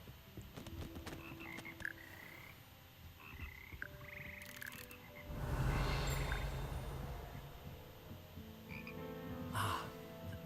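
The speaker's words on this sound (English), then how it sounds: "Magical amphibians can sing in 6-part harmony and hold a pitch better than most humans." Frogs of the Hogwarts Frog Choir in a video game croak in repeated rhythmic calls, with a louder swelling chorus midway and bell-like tones scattered throughout, no speech.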